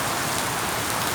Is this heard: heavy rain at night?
yes